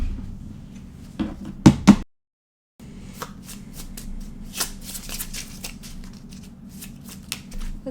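Tarot cards being shuffled by hand in a quiet room, brisk papery riffles and taps close by, with a brief pause of silence partway through before the shuffling resumes.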